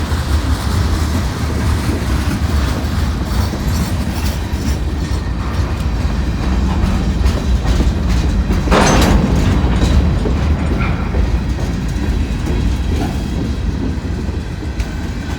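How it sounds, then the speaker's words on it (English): A mixed freight train hauled by six locomotives rumbles steadily past on the rails in snow, loud and close, with a brief brighter screech of wheels partway through. "This is an interesting train. Mixed freight too."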